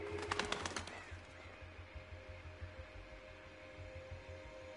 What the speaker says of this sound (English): A bird. That's cool.